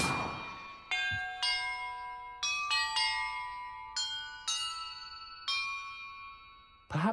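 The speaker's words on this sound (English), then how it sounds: "Perhaps the map contains clues about the order I'm supposed to ring the bells in." Bells ring one after another in a video game puzzle, about ten clear, close metallic strikes at uneven intervals, each ringing on and fading before the next.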